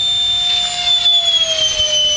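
An F-16 jet engine gives off a steady, high-pitched turbine whine with a strong rushing roar beneath it, loud and continuous throughout.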